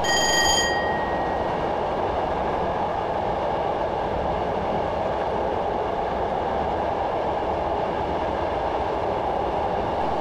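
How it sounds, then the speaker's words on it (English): A Class 421 electric multiple unit coasts along the rails in Train Simulator 2015, giving a continuous steady rumble and wheel noise, with a brief high warning tone at the start. "I'm allowing the train to coast now"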